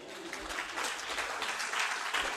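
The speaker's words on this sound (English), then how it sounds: "You guys can clap." Audience applause fills the room, steady dense clapping from a group after a live medical lecture on heart murmurs and valvular heart disease.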